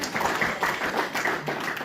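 A church congregation claps and applauds together in a brief, steady burst of dense hand claps, fairly close, with no speech over it.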